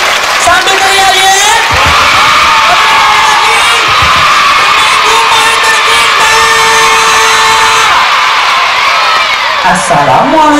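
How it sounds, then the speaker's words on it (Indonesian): A large crowd of grade six elementary school pupils at a motivational storytelling event in Dumai claps, cheers and shouts loudly, a dense, continuous roar of young voices that swells and then fades near the end. "Tepuk tangan yang meriah semua keras-kerasnya"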